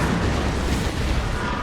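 A Singularity ability detonates in the real-time strategy game Dawn of War 2, a dense, roaring rumble of battle noise that fills the short stretch loudly and steadily, with no speech over it.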